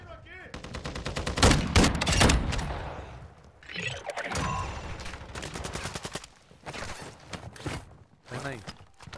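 Rapid bursts of gunfire from a Call of Duty Warzone DMZ match crack in clustered volleys, loudest early and fading to scattered shots, mixed with a player's excited shouting.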